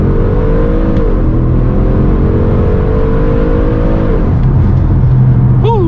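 An Audi RS6 with its resonator deleted, in dynamic mode with traction control off, revs hard up close: loud, throaty engine pitch climbing in steady sweeps and dropping back, with no talking.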